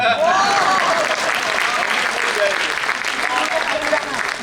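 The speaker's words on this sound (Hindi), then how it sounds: "तालियां" Dense, steady clapping from a large audience at a poetry recital fills the whole stretch, loud and continuous, with a few voices faintly audible beneath it.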